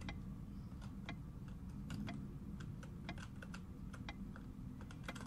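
Computer keyboard keys clack in a quick, uneven run of light taps, close and fairly quiet, as arrow keys are pressed to steer an arcade game.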